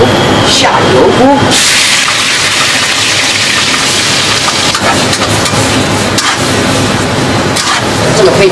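Chicken gizzards, intestines, liver and other ingredients sizzle in a wok with plenty of oil in a home kitchen, a loud steady hiss and crackle with a voice talking over it.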